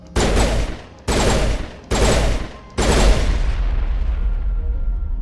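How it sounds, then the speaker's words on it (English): Explosions in the video game Mass Effect go off as four heavy, booming blasts in quick succession, each loud and close with a rumbling tail, the last one fading into a lingering roar. "I was expecting a little bit better explosion than that."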